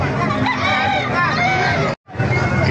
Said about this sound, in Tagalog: Papakita ko sa inyo mga manok dito sa Kalumpit